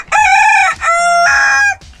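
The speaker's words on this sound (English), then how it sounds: "You're crowing at a wall." A rooster crows loudly and close by in the morning on a property with tree-care equipment, giving two long harmonic crows back to back with a brief break between them and no talking.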